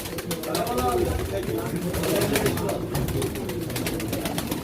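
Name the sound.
pigeons cooing at a pigeon auction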